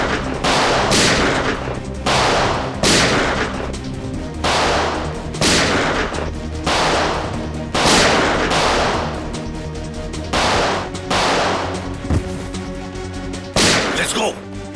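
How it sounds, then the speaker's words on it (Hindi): Loud bursts of gunfire crack out repeatedly, clustered volleys every second or so, with voices heard between the shots. "बाहर गोली चलने की आवाज।"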